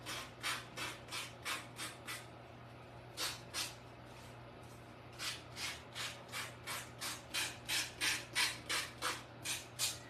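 A Velcro sanding pad rubs along the edge of craft paper on a wooden bookmark, a quick regular series of about twenty short raspy strokes, soft and close, with no speech.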